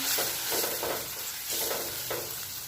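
Gram flour being stirred into dry fenugreek greens in a pan over very low flame, with soft repeated scraping strokes and a faint gentle sizzle, close and steady.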